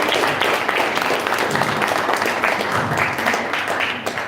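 Parents in a school audience applaud at a live student talk event, dense continuous clapping filling the room throughout, fairly loud and without talk.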